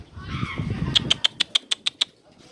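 Pigeons burst into flight from a balcony, a loud run of about eight sharp, evenly spaced wing claps close by that comes after a short rustling flurry, with nobody speaking.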